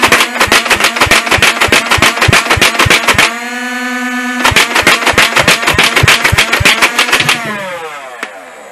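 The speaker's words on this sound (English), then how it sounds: "all you have to do is hit that rev trigger, let it rev up, and fire." A Big Power Electric 505 foam dart blaster fires in a fast, loud, evenly spaced stream of shots. It pauses with the flywheel motor whining, then fires another rapid string before spinning down.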